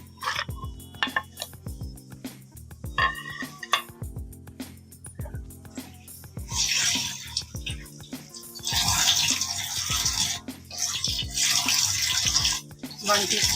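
Washed mutton going into a pot of boiling water while making kaddu gosht, heard as a run of close knocks and clatters followed by sustained watery splashing and bubbling, loud and near, with no talk over it.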